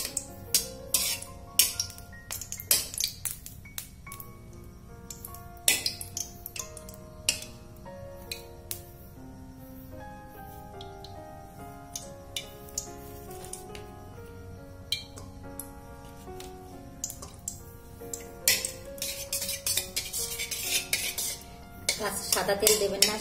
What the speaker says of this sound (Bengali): দেখবেন বাটারটা আস্তে আস্তে গলতে শুরু করবে।